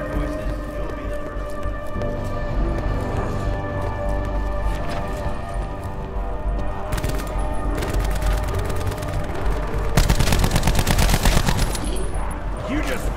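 Gunfire and explosions during Call of Duty: Black Ops 4 Zombies on PS5, on the Blood of the Dead map, with shrieking creatures, dense rapid bursts of shots and booms over a continuous noisy din, growing busier toward the end.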